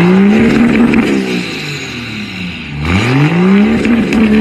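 A 6.7 Cummins diesel engine revs loudly and up close, its pitch climbing and falling in a rise-and-drop pattern, then swelling again near the end, with no voices.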